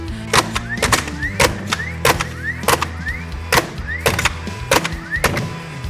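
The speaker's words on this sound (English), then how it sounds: "These are 3-inch ring nails, so they take more to drive, and it seems to be taking the momentum out of the flywheel" DeWALT framing nailer driving 3-inch ring nails, firing about a dozen sharp, loud thwacks in an uneven rhythm, each followed by a brief rising whir from the flywheel, with no talking.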